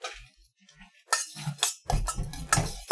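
Meatloaf mixture for a BBQ meatloaf being mixed in a bowl, with clinks, scrapes and stirring knocks that build in bursts and grow louder toward the end, and no talking.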